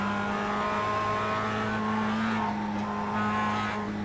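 A Mazda MX-5 Cup race car in iRacing at the Charlotte Motor Speedway Roval holds a steady, buzzing engine note under throttle, loud and continuous, with the pitch dipping slightly as the driver eases off near the end.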